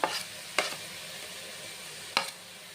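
Onion and chopped tomato fry in a pan at home, making a soft, steady sizzle broken by three sharp clatters of a spoon or utensil against the pan, with no talking.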